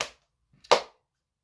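A single sharp hand clap rings out close and loud in a quiet room, preceded by a fainter soft tap, then fades quickly into silence.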